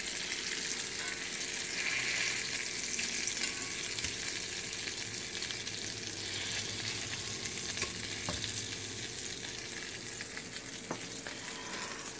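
Pork chops fry in a cast iron pan, a steady close sizzle that holds for the whole stretch, with a faint tap of the pan or utensil now and then.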